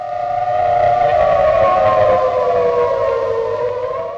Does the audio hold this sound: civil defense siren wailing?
yes